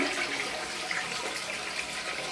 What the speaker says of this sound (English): Have your toilet. Give her a flush.